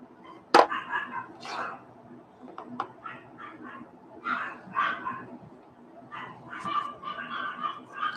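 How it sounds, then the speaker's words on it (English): Dogs barking and yipping at a distance on a mountainside ceremony site, a sharp close bark first, then scattered bursts of barks and whimpers repeating over the quiet. "there go the dogs"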